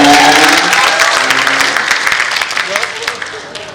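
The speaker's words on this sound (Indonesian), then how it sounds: "Tepuk tangan boleh, tepuk tangan boleh." Loud, dense applause from a church dinner audience, steady at first and gradually thinning out over a few seconds.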